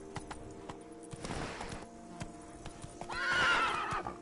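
Horse in The Witcher 3 video game galloping with steady clip-clop hooves, then a loud neigh rising near the end; no talking.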